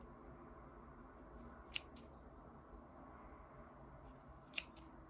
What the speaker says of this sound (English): take our scissors and stick them through all the little loops and cut them